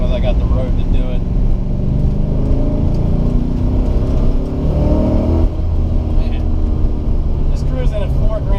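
An LS-swapped Mazda RX-7 FD accelerates hard through the gears on a road, its V8 engine droning steadily with rising and falling revs and occasional gear changes, heard from inside the car.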